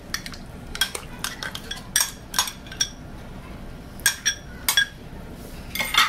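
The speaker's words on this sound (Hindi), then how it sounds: "दही को इसमें अच्छे से मिक्स कर देंगे" A spoon scrapes and clinks against a pan while curd is mixed into zucchini raita, sharp metallic taps coming in irregular bursts with quiet pauses between them.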